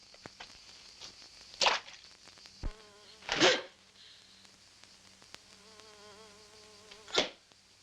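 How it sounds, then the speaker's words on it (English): A wasp hums faintly and steadily close by in quiet surroundings, interrupted by a few sharp, loud swishing bursts. "there's a wasp here"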